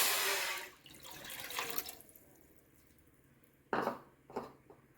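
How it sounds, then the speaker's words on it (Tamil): Water pours in two short bursts, splashing into a metal kadai, with a quiet pause between pours. "இப்போது கடாயில் அந்த ஒரு கப் தண்ணி வச்சுருந்ததை இப்போ வந்து நம்ம தண்ணி ஊற்றிக்கிடலாம்"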